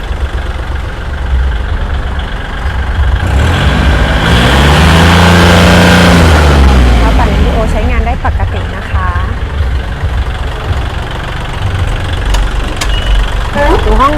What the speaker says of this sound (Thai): รถสตาร์ทติดง่ายเสียงเครื่อง ฟังเสียงเครื่องกันนะคะ